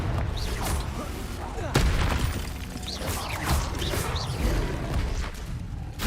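Confringo fire-blast spell cast in Hogwarts Legacy combat, a sharp whooshing burst with a booming crack amid rapid magical effects and clatter, heard alongside a shouting voice.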